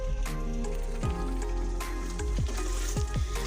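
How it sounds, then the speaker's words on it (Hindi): Spice paste for a spinach (palak) curry frying in oil in a kadhai, a steady close sizzle with bubbling crackle and occasional stirring scrapes throughout. "तब तक आइए उधर मैं कढ़ाई में पेस्ट को फ्राई कर लेती हूँ अच्छी तरह से।"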